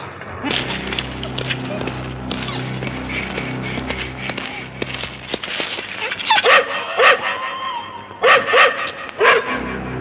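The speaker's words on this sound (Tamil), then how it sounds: "நாய் குலைக்குது." A dog barks in a Tamil film scene, with a run of sharp, close barks and yips clustered in the last few seconds over a busy background of other sound.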